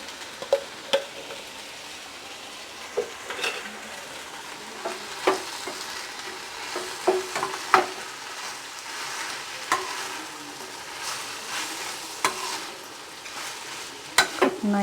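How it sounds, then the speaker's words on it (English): Mint (pudina) paste frying in ghee in a kadai while cooking vegetable biryani, a steady soft sizzle with intermittent scraping stir clicks and utensil knocks, close and without talk. "that pudina paste should get fried without sticking to the kadai"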